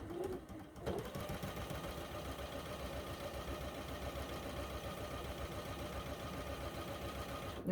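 A sewing machine runs steadily, close and continuous, as it stitches two quilt pieces together for a sampler block, with a brief pause near the start before the rapid mechanical chatter resumes.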